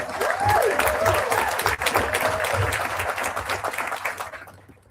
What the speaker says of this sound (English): Let's give a round of applause to our veterans real quick.